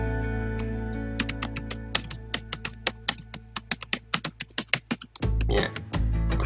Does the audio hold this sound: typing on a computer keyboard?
yes